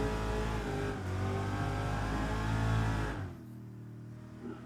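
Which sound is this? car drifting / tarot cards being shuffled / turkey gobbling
car drifting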